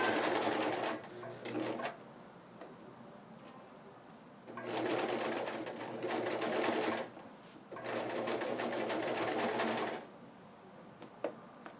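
A sewing machine top stitches slowly along a fabric edge on a traditional Japanese haori, running in three steady whirring bursts separated by short pauses, close and clear with no talk.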